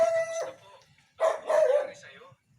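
A dog, a bulldog, barking and yelping nearby, two loud bursts separated by a short pause, with a faint background rumble underneath.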